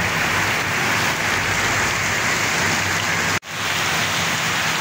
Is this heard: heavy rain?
yes